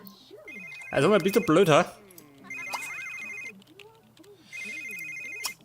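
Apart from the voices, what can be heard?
mobile phone ringing in the video game The Sims 3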